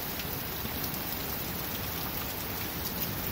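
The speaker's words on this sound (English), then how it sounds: "The rain coming down." Heavy rain pours steadily during a thunderstorm onto a road that is flooding, a dense unbroken hiss that stays loud and even throughout, with no thunder or talk standing out.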